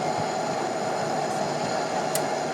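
A Conrail SD70 diesel locomotive in Trainz rumbles steadily with a constant engine drone and a faint high whine, close and unchanging throughout.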